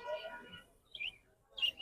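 Short chirps from caged birds, cockatiels among them, at the Mirpur 13 bird market: two brief, bright calls rise after a faint murmur of voices at the start.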